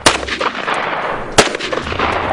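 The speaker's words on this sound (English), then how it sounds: "This is a Smith & Wesson 500 Magnum, one of the largest production-made handguns" Smith & Wesson 500 Magnum handgun, a very large production revolver, fired twice: a sharp close shot at the start and another loud report near the middle, each with a ringing tail over steady background noise.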